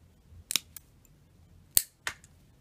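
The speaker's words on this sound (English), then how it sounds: "And then I cut off the antenna" Scissors snipping the antenna off a small dollar-store plastic toy, several crisp close clicks and snips in a quiet room.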